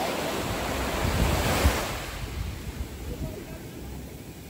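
Ocean waves break on Om Beach in Gokarna, a loud continuous wash of surf swelling to a peak in the first two seconds, then receding into a softer, wind-blown hiss.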